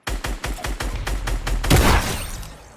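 Pump shotgun fire in the video game Fortnite, a rapid string of loud, evenly spaced blasts that ends in a heavier booming burst and a fading rumble.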